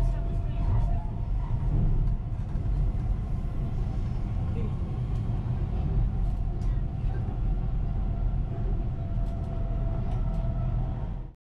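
Steady low rumble of a passing train in Richmond, British Columbia, continuous and fairly loud throughout, with faint clanks and some background voices.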